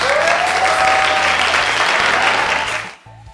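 An audience claps for a speaker at an event, dense steady applause close by that fades out after about three seconds.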